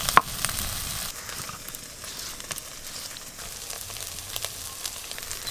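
Chili paste is added to a hot frying pan and sizzles, with a sharp hit at the start followed by a steady, noisy crackling sizzle that stays fairly loud, near and free of talk.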